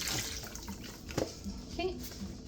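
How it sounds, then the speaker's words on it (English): Beef broth poured into a pan of thickened broth, flour and onion for beef stroganoff, a short steady splashing pour close by with faint kitchen clatter and a brief voice in the background. "we're going to add the rest of the beef broth"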